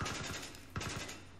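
Two quick bursts of automatic gunfire in Battlefield 3, each a rapid string of sharp cracks, fairly faint and a little distant, separated by a short pause.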